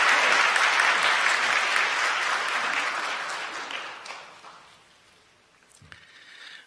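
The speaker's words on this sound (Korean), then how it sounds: "여러분 박수 보내주시기 바랍니다" Church congregation applauding during a Sunday service, a loud burst of many hands clapping that gradually thins and fades to near silence, followed by a few faint scattered sounds.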